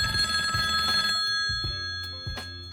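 An old-style telephone bell rings in bright bursts, then stops and leaves a few low knocks before fading out.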